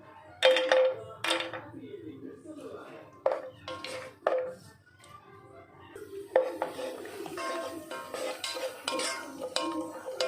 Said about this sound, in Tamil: நெய்யில் இந்த முந்திரி திராட்சையை வறுத்து எடுத்துக்கலாம்.